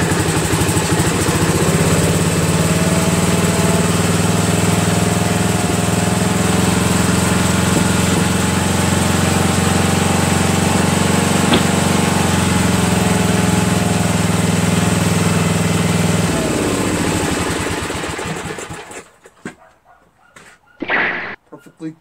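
A Dayton 5000W 120/240V generator with an 11HP Briggs engine runs loud and close with a steady, throbbing drone for about seventeen seconds, then winds down and stops, leaving a few brief voice-like sounds.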